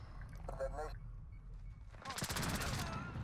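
Bursts of CR-65 rifle fire in a Call of Duty Modern Warfare match, rapid automatic shots cutting in loudly near the end after a stretch of quieter game sound and talking.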